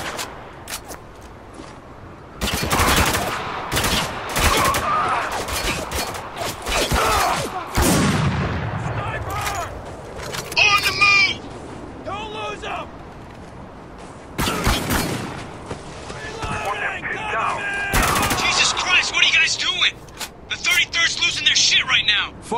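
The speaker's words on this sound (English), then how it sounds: "Taking some heavy fire here!" Heavy gunfire in Spec Ops: The Line video game, loud bursts of rapid shots and booms in clusters, mixed with shouted voices and radio-like chatter throughout.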